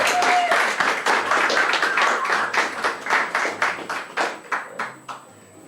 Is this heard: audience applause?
yes